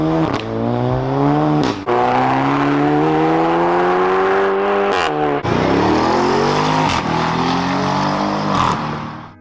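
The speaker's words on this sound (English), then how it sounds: "Have you always wanted that cool shift fart that all the DSG kids have?" A car running an XHP ignition-cut shift tune revs hard and continuously, its engine note climbing in pitch, with brief abrupt cuts at each gear change giving a DSG-style shift pop, loud and close.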